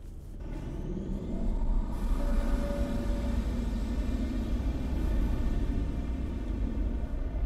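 A steady, heavy low rumble of a metro train in the video game Condemned: Criminal Origins swells after a quiet start and holds loud and continuous with a faint tonal whine on top.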